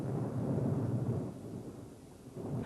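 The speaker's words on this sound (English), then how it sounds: "Then came a flash of lightning, a clap of thunder," A deep, rumbling roll of thunder swells and fades, heavy and low, with no voices present.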